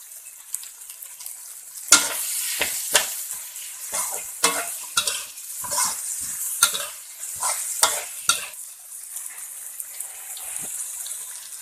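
Pork belly stir-fries with dried chili and holy basil in the old-style way, with loud, irregular scraping and tossing strikes of a spatula over a continuous close sizzle, and no one speaking.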